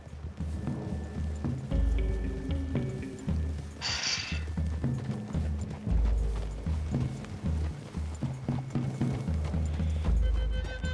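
Horse hooves clip-clop through a wooded clearing in the Red Dead Redemption 2 video game, a steady rhythmic trot under music and ambient game sound, with a brief bright burst partway through.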